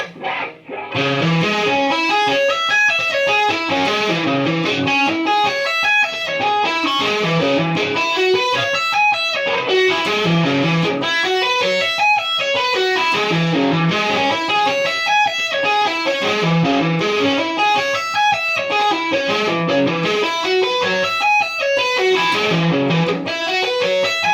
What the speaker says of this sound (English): that entire lick played through slowly should sound kind of like this